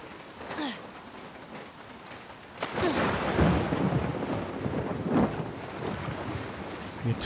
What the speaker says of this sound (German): Laufen hier durchs Wasser rum, ey, und übelstes Gewitter.